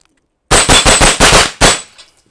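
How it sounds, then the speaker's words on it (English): A SIG MPX carbine fires six sharp, loud shots in quick succession, close to the listener, with a short pause before the last shot and a brief fading echo. "It's just a fun gun to shoot."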